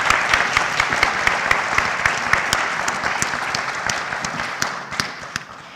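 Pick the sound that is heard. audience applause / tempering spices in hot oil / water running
audience applause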